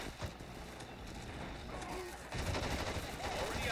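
Gunfire in the World War II strategy game Men of War: Assault Squad 2 during a battle for Hill 400, sharp shots and bursts popping through a dense, noisy battle bed that grows louder partway through.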